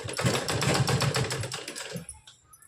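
Sewing machine stitching a blouse, running in a steady fast rhythmic burst of needle strokes for about two seconds, then stopping and trailing off into quiet handling noise.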